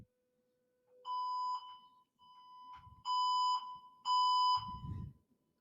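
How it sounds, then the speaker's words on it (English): An electronic alarm beeps in three loud, sustained bursts of a bright tone, separated by short gaps of near silence, with low thumps under the last burst. "If you're listening on the audio feed, you just heard alarms and silence."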